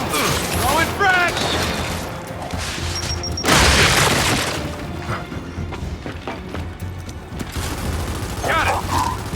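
A frag grenade detonates in Gears 5 campaign combat, a loud broadband blast near the middle followed by a decaying rumble, amid scattered gunfire, clanks and other battle effects.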